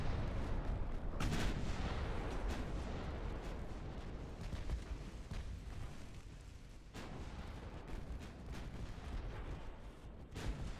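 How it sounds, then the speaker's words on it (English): Torpedo explosions boom in a naval strategy video game set in a USA long campaign, a loud dull blast early followed by rumbling impacts and scattered sharp bursts, with a second hit near the end. "Just torpedoes everywhere"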